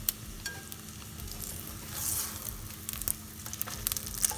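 A tortilla sizzles and fries in a pan after being flipped, a steady close crackle with a few small ticks and no talking.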